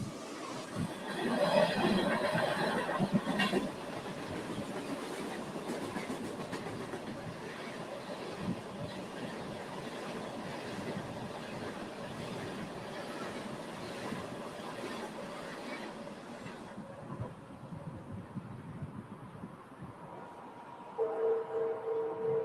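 A Union Pacific coal train on a triple-track mainline rolls past with a long, steady rumble and wheel noise, loudest early on and fading slightly toward the end, with no voices over it.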